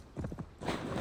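In Assassin's Creed Valhalla, horse hooves clip-clop in a quick run of a few beats, followed by a steadier wash of splashing as the horse swims, fairly close.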